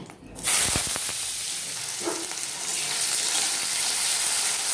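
Potato pieces dropped into hot oil with dry red chilli, cumin seeds, salt and turmeric give a steady, close hissing sizzle. The frying noise rises sharply after a quiet start and keeps going evenly to the end.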